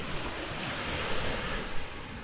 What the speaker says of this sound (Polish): Duże fale.